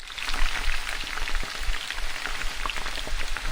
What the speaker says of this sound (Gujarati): થોડું તેલ ગરમ કરી અડધી ચમચી રાઈ